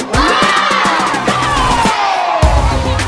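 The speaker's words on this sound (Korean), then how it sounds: "상자를 여는 순간 들려오는 아이들의 웃음과 환호." Children laugh and cheer loudly as Christmas gift boxes are opened, played during a church Christmas service. The joyful crowd noise is close and continuous, with excited shouts throughout.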